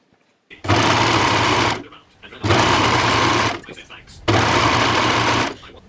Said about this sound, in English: Yeah, we're gonna go overlock this.